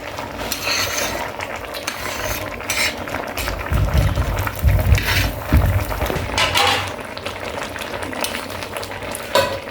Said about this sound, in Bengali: এখন ডিম দিয়ে নেড়ে দিচ্ছে।